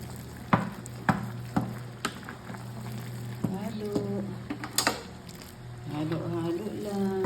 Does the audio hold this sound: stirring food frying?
yes